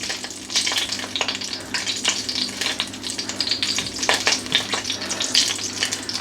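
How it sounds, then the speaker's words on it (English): Bay leaf, cinnamon stick and dried chillies fry in hot oil for chicken tikka masala, giving a steady close sizzle with crackling spits and light stirring clicks throughout. "we're just going to fry these for a few seconds"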